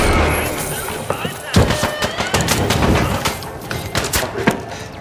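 Gunfire in the shooter game The Finals, a busy stretch of overlapping shots and impacts with repeated sharp bursts across the clip, fairly loud and mixed with game noise.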